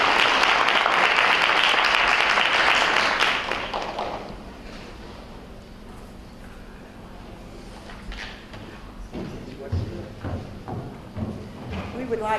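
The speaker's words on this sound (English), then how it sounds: "we need to give these young people a round of applause" Loud audience applause at a school career association ceremony on a cold morning, a dense burst of clapping for about four seconds that quickly fades into soft crowd murmur and a few taps.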